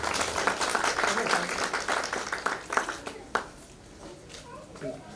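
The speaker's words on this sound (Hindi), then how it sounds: "इसके लिए भी तालियां बजा के स्वागत करें।" Audience applause at a Culture Ministry event in India after a talk on Ahilyabai, with claps that are fairly loud at first, then thin out and fade toward the end under some talk.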